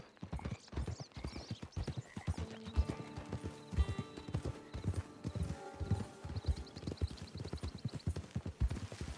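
Steady clip-clop of horse hooves at a walking pace in Red Dead Redemption 2 Online, close by, with a faint whinny and light background tones, no talking.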